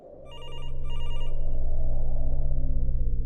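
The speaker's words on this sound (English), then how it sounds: "The next day, Simon, Barbara's son, rang as he always did." An old-style electronic telephone ringer warbles in two quick bursts over a steady low hum, loud and near, then the hum carries on alone after the ringing stops.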